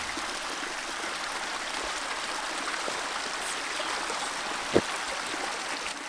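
Spring water trickles and gurgles steadily on rural off-grid land, a soft continuous flow heard close by, with one brief sharp knock near the end.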